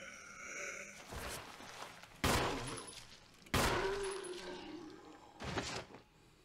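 Gunfire in the Resident Evil video game: a few sharp, loud shots ring out at irregular intervals over a background of game ambience, with no talk over them.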